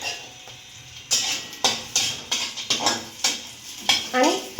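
Raisins, cashews and almonds tipped into hot ghee for Maharashtrian coconut rice, giving a run of close sizzling bursts and spoon scrapes about every half second over a soft background hiss.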